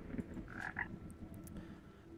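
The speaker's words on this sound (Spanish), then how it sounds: "Vamos a hablar con esta rana." A frog croaks a few times in the video game Ikonei Island: An Earthlock Adventure, set against a quiet ambient game background, with no voices.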